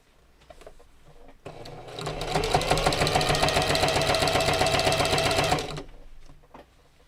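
A sewing machine stitches bags in a steady, loud rhythmic run of rapid needle thumps lasting about four seconds, starting and stopping cleanly, with quiet handling noises before and after.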